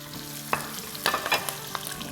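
Half a carrot, cut lengthwise, dropped into a pan of food frying over medium-low heat, giving a few sharp clatters and stirring scrapes over a quiet, steady sizzle.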